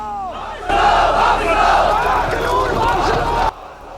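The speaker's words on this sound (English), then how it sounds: "I mean, it is a rowdy crowd" A rowdy film crowd roars and shouts together, a loud, dense mass of voices that swells abruptly and holds steady before cutting off.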